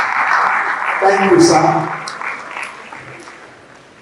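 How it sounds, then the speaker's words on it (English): An audience at a faculty guest lecture applauds the former dean, steady clapping that fades away toward the end, with someone speaking briefly over it. "Round of applause."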